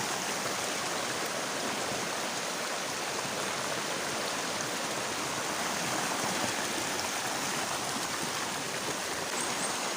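Beside a riverbank, river water rushes in a steady, unbroken broadband wash, close and constant throughout with no voices.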